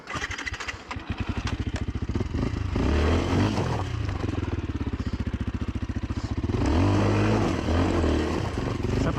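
A Beta RR 125 LC enduro motorcycle pulls away from a stop, its two-stroke engine revving up and holding loud, close and steady, with a brief rise in pitch as it accelerates across open ground.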